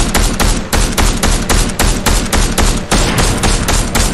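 Rapid bursts of automatic gunfire in a Fortnite match, loud and close, firing in a steady stuttering rhythm of repeated volleys across the whole stretch, with one short pause near the end before shooting resumes.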